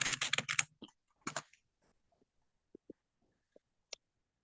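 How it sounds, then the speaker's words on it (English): Keys pressed on a computer keyboard in a quiet classroom setting, a few soft separate taps spaced out after a short burst of louder sounds at the start, faint and sparse rather than a steady typing run. "I will type here hudyat."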